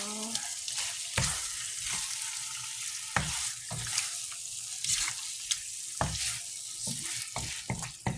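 Shrimp with garlic and butter sizzles in a pan over low heat, a steady crackling fry broken by sharp clacks and scrapes of stirring at irregular intervals, close and clear with no talking.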